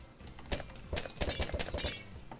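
Glass potion bottles shattering in Minecraft UHC, a quick series of about eight crisp breaking crashes in irregular rhythm, fairly close, with no talk over them.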